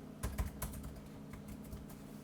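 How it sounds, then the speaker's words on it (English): Soft, quick keystrokes on a computer keyboard as a username and password are entered at a logon screen, faint and close with an irregular rhythm, no voices. "you enter your username and password"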